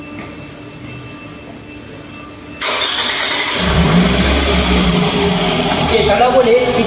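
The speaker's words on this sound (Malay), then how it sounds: "Ok, kena start kereta lah." A Toyota Estima's engine cranks and catches about midway, jumping from a quiet background to a loud, steady running idle that continues to the end.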